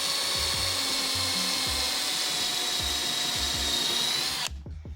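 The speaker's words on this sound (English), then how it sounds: "drill a nice pilot hole in there" A power drill whirs steadily at close range for several seconds, boring a pilot hole through soft plastic during a speaker install in a Mitsubishi 3000GT, then cuts off abruptly.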